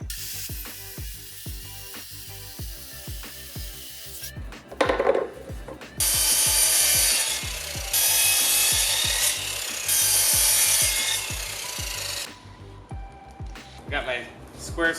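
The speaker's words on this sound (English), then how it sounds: "I'm just gonna work on cutting out pieces of wood" Wood being cut into pieces for a caster-wheel cart base, with long rough bursts of sawing or rasping between quieter handling and scraping, heard close up alongside a low rhythmic background pulse.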